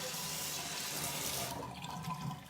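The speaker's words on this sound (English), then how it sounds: "So you'll hear my faucet here." A bathroom faucet runs warm water into a sink with a soft, steady splash that thins and fades partway through, leaving quieter trickling and faint handling sounds.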